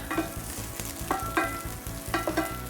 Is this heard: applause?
no